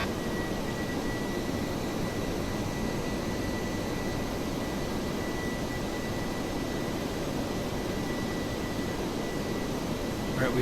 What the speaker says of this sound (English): And you add just to move the throttle a little bit, and it really gets the thrust going.